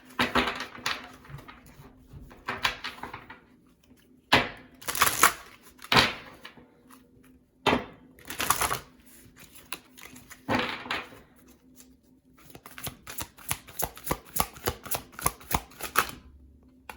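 Oracle cards being shuffled by hand: a series of short, crisp riffling bursts separated by pauses, close and fairly loud, with quieter taps and rustles between, and no speech.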